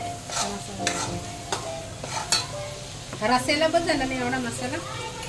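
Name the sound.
masala being stirred into frying prawns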